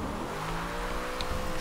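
Car drifting in Forza Horizon 2, a steady engine drone with a rising rev and a brief squealing tone, loud and continuous with no talking.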